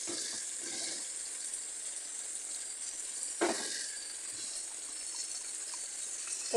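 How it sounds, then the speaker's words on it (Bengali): Water poured into a hot pan of spiced chicken, with ground spice paste also in the pan, gives a steady hissing sizzle and a brief splashy surge partway through, continuous and fairly close. "একটু জল অ্যাড করে দেব।"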